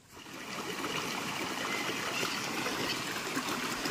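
Mountain stream water rushing and trickling over rocks on a hillside farm, a steady close babbling flow that swells in within the first half second and holds constant.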